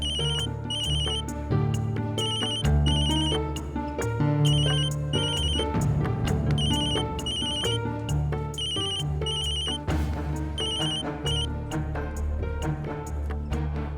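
A mobile phone ringtone plays a repeating melodic tune with bright electronic chimes, ringing loudly and steadily throughout, with no one speaking.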